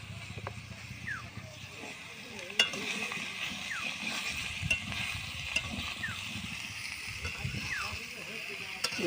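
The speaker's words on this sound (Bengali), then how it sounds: "এই যে তেল আমার পুরো গরম হয়ে গেছে, আর এই যে কুমড়ো ঢেলে দিলাম।" Chunks of pumpkin tipped into oil that is already hot, giving a steady broadband sizzle with a few sharper clatters, while a voice talks faintly underneath.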